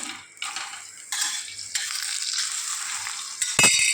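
An onion paratha fries in oil on a pan, the sizzle swelling in loud bursts as more oil goes on, followed by a sharp metallic clink at the end.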